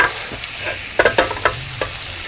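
Sausages fry and sizzle in a CalmDo multicooker while being rolled around, a steady close sizzle broken by several sharp scraping knocks and clatters as they are turned.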